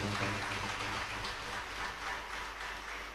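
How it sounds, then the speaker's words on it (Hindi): Dense, sustained applause from the audience at a Shiv Mahapuran religious discourse, a loud, even wash of many hands clapping together that holds steady throughout with no voices on top. "एक बार जोरदार ताली बजाइए"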